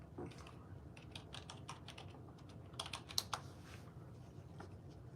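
Quick, uneven clicks of typing on a computer keyboard, close and fairly quiet, in irregular bursts with a few sharper keystrokes.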